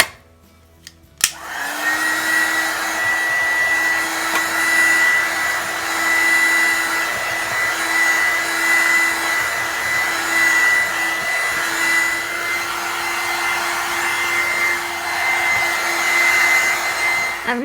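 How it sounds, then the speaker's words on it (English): A heat gun blows steadily on spray paint art, a loud and close constant whooshing hum with a faint whine, starting after a short click and lasting unbroken to the end. "go in with the heat gun"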